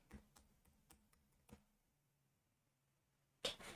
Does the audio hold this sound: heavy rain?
no